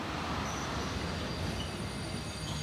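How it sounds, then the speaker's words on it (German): Train departing in the Valkyria Chronicles 4 video game, a steady rumbling roll of wheels on rails with faint high metallic squeals, continuous and moderately distant, with no voices. "Der Zug fährt ab von Gleis 1 in Richtung Hölle."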